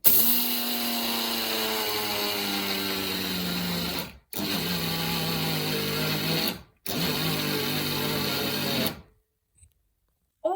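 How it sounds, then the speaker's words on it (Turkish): Small electric grinder milling raw almonds and sesame seeds, a loud steady whir in three long bursts separated by brief pauses, then silence at the end. "Şimdi de susamı ekledim. Öğütüyorum."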